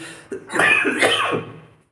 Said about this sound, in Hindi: खांसी कंटिन्यू आ रहा है